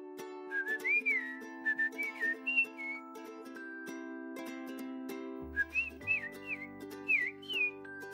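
Human whistling imitating birdsong, a string of short rising and falling chirps and trills in phrases like two birds calling back and forth, over steady background music.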